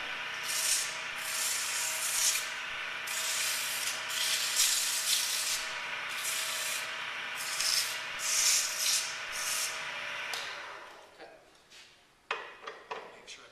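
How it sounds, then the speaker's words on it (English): Wood turning on a lathe is sanded with 80-grit sandpaper, giving a loud, rhythmic rasping of repeated strokes for about ten seconds. Then the scraping stops and a few faint clicks and knocks follow. "So I'm only going to sand with 80 real quick, just for demonstration purposes."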